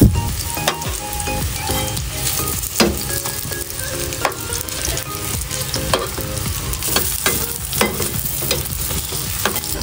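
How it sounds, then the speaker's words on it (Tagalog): Continuous crackling sizzle of food frying in hot oil beside a river, with occasional louder pops and the scrape of stirring. "ako po ngayon ay nagpiprito na"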